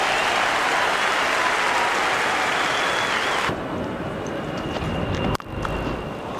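A cricket crowd applauds a boundary at a test match, loud sustained clapping and cheering for a few seconds before it cuts to quieter ground ambience with a sharp knock.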